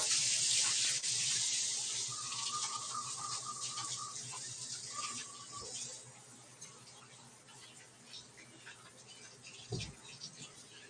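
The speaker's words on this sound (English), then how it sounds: "Let me wash my hands real quick." Running tap water splashes over hands at a kitchen sink, loudest at the start and gradually easing, with a faint tonal hum in the middle and a brief knock near the end.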